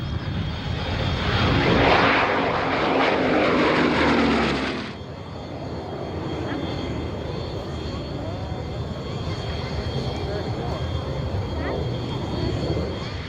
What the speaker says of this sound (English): This is a 1936 Westland Lysander, a rugged, high-winged monoplane with a fixed, spattered undercarriage.